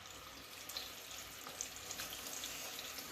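Chicken pieces for orange chicken drop into hot oil in a deep pot, giving a faint, continuous crackling sizzle with scattered small pops throughout.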